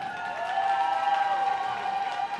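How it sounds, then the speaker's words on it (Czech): An audience claps for a folk dance group taking the floor at a town dance competition. The applause is moderate and fairly distant, with a sustained musical tone running beneath it through the short stretch. "Potlesk pro ně"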